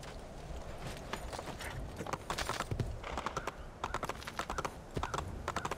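Horse hooves clip-clopping in the Assassin's Creed video game, a steady rhythmic trot of hoofbeats with mid-distance presence, moderately quiet and alone.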